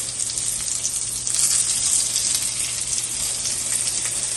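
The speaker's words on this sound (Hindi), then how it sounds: "बहुत अच्छी तरह से फ्राई हो रहे हैं" Eggplant cutlets frying in hot oil give off a steady, close, bright sizzle that holds evenly throughout with no talking.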